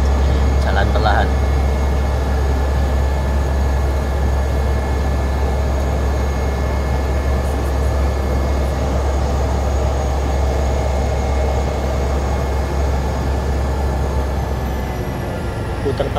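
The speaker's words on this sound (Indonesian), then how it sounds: "Enak ya kalau pesawat kecil ini putar balik tinggal diputer aja" A small Susi Air propeller plane drones steadily close by as it taxis and turns, its engine humming continuously without pause.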